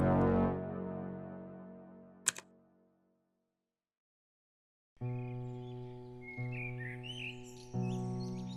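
Birds chirping in late spring in New York, faint high twittering calls mixed over sustained musical tones that begin after a fading note, a sharp click and a few seconds of silence.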